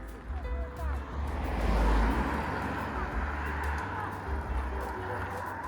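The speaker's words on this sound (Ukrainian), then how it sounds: "машини пролітають повз дітей на велосипедах" Cars passing along a mountain village road in Zakarpattia, a loud close pass swelling and fading with a low rumble, a dog barking nearby and people talking over it.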